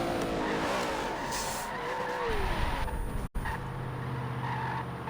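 A race car in a sim racing video game spins and skids through a 360, its tires squealing in sliding tones over a loud, continuous engine roar, with a brief dropout and then steadier engine drone.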